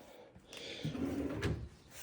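A long wooden drawer on a Paulk-style workbench slides open or shut, a soft rumbling wooden scrape lasting about a second with a light knock, close but fairly quiet.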